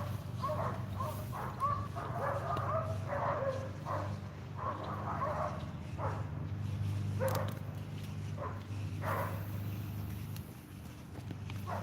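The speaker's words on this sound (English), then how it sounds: "there's some dogs going nuts over there" Dogs barking in the distance near a fishing spot, repeated bursts of yapping over steady low outdoor rumble, moderately faint and irregular throughout.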